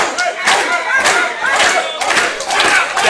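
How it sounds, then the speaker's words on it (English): A crowd at a live wrestling event chants and cheers loudly in rising, rhythmic waves as it rallies behind a wrestler, with occasional thumps underneath. "this crowd tries to rally and get behind the Hound Dog"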